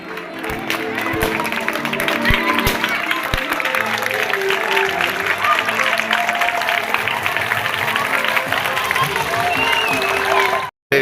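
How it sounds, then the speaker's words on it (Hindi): Crowd clapping during a group concentration game at a student camp, steady and dense for about ten seconds alongside voices and tonal sound, then cutting off abruptly at the end. "आप ताली बजाएंगे।"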